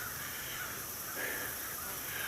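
Crows caw over open farm fields, a few harsh calls rising above steady outdoor background noise at moderate distance.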